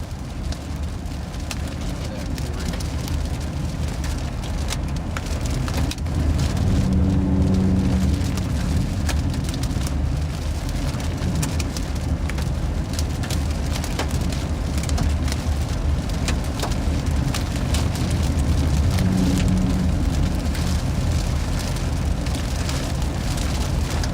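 Rain and hail drum on a car's roof and sunroof cover during a Texas supercell storm, a dense, steady, close patter that fills the whole stretch, with a few louder bursts and faint talk inside the car.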